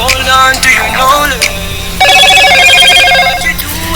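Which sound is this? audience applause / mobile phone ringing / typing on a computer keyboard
mobile phone ringing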